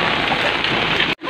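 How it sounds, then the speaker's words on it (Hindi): Heavy rain pours steadily on a village, a dense continuous hiss of drops on surfaces that fills the clip and briefly cuts out near the end. "बारिश हो रही है"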